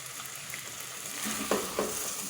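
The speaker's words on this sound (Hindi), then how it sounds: "5-6 मिनट तक हम इसी तरह से स्लो फ्लेम पे इसे भूनते रहेंगे" Minced meat with capsicum fries over a slow flame in a pan, giving a quiet, steady sizzle with a couple of soft stirring scrapes.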